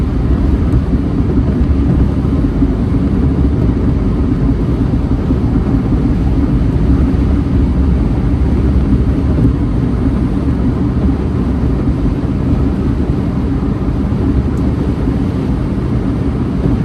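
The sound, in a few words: Electra Meccanica SOLO electric car driving on highway at 70 mph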